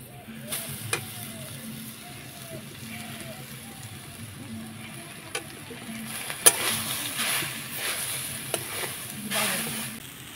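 Cashews, raisins and sweet potato fry in a pan, giving a low continuous sizzle with scattered stirring clicks and scrapes, while a voice speaks over it now and then.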